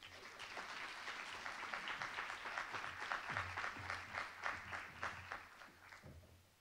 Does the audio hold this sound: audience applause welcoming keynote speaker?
yes